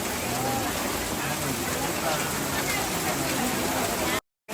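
Heavy rain pours down at an outdoor Toraja ceremony at a tongkonan, a dense, steady hiss of rain on surfaces that cuts off abruptly near the end.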